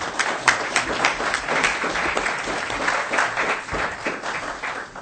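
An audience at a gallery panel event on Vandal football applauds the panel and organizers, with dense, steady clapping from a room-sized crowd that lasts several seconds with slight swells and no speech.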